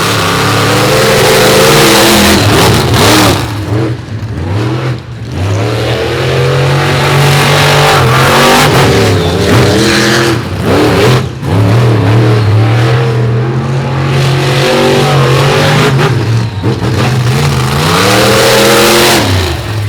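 Loud, close racing engines roar and rev continuously as Ford and Chevy cars battle in a championship final at Harrisonburg, Virginia, with gear changes dipping and climbing the pitch repeatedly.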